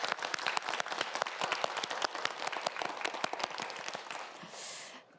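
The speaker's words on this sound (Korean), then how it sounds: "네 학생 모두를 위해서 힘찬 박수 부탁드립니다" A studio audience on a Korean TV quiz show claps for four student contestants before the third round, with brisk, crisp applause that tapers off near the end.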